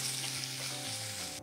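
Tomato slices sautéing in a pan for tomato stew give a steady, close, even sizzle and fry hiss with no talk, holding level throughout before cutting off at the very end.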